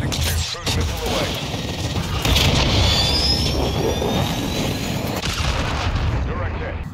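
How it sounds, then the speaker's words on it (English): Cruise missile strike exploding in the video game Call of Duty: Modern Warfare II: a loud, sustained wall of rumbling blast noise with crackling, gunfire-like bursts that swells around the middle, with voices talking over it. "Trojan 62, cruise missile away."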